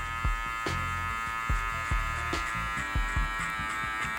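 Electric hair clipper cutting a burst fade at a barbershop, a steady close-up motor buzz with rhythmic low thumps and scraping as the blade is guided outward through the hair.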